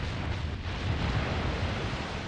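Naval guns boom from warships in the game Steel Ocean, heard as a continuous, dense rumbling roar of distant gunfire with no clear separate shots.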